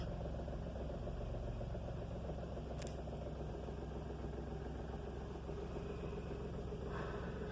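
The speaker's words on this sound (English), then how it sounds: "As the engine warms up, it will come down further and drop to just below 1000 rpm." A Renault Triber engine idles after a cold start at -2 degrees Centigrade, a steady low continuous rumble with no change in pace, heard alone without talk.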